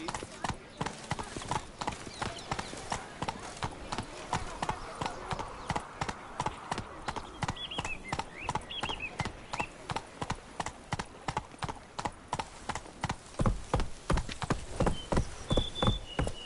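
Roach, a horse in the video game The Witcher 3: Blood and Wine, gallops with steady rapid hoofbeats throughout, under game voices and ambient sound, growing louder and more pronounced near the end.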